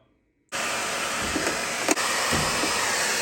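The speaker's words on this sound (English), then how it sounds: "What I do is I use a hair dryer right here, turn on high." After a moment of silence a hair dryer switches on high and runs as a loud, steady, breathy roar, close by, with a faint bump partway through, while loosening a washing machine hose.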